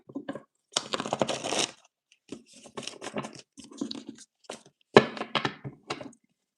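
Tarot cards are shuffled close up in bursts of riffling and soft flicking, broken by short pauses and light taps.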